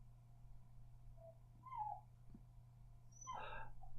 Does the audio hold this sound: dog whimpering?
yes